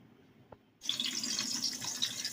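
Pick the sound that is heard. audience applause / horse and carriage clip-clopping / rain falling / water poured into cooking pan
water poured into cooking pan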